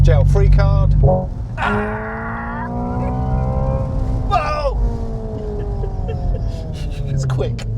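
A Hyundai Ioniq 5 N accelerates hard from about 40 mph, its simulated engine note climbing through rising tonal sweeps with shift-like steps, close and loud, while a person talks over it.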